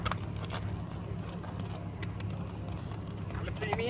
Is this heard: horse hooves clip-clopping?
yes